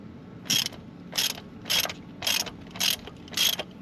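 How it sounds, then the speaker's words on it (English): A hand ratchet works on a spark plug in a Toyota 22R engine, six evenly spaced bursts of clicking about every two-thirds of a second, close and clear with no talk. "Let's pull the plugs and see what those look like."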